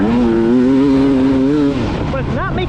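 A Beta dirt bike engine at a demo day, a steady droning tone that wavers slightly in pitch, then drops off and gives way to rising and falling revs near the end.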